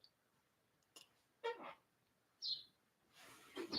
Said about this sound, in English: The sparrow was at my window.